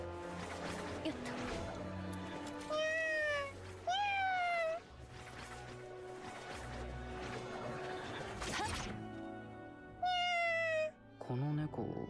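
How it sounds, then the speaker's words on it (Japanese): A cat meows several times in the video game Duet Night Abyss, with clear rising and falling cries spaced apart over background game sound, a thud and some talk. "ちょっとあの猫、僕たちをどこかへ案内したいみたい。"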